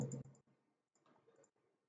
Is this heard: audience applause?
no